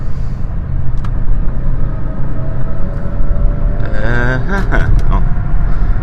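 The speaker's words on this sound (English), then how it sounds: "I don't know how much of the car noises are going to be picked up" Passing road traffic, with a steady low rumble of cars going by close to the microphone under a speaking voice, plus a brief higher whine as one vehicle passes near the end.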